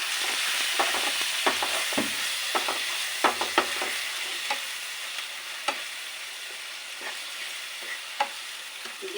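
Ground cumin and spice paste fry in a pan with a splash of water added, giving a soft, continuous sizzle. Quiet scraping stir strokes tick through it at irregular intervals, with no voices.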